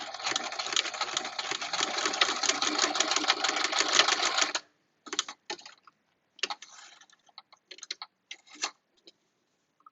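Sewing machine stitching back and forth over face mask elastic, a steady continuous mechanical whir for several seconds, then short broken bursts of stitching with pauses between.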